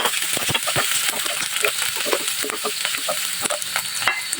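Onion sautéing in olive oil in a pan, a steady close sizzle with repeated stirring scrapes and clicks throughout, no voices.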